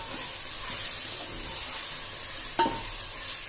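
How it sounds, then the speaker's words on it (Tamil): Prawns with masala, salt, curd and lemon for prawn biryani, sautéed and stirred in hot oil: a steady close sizzle with scraping stirs and one sharper clatter of the spoon, no talking. "நல்லா வதக்கலாம்."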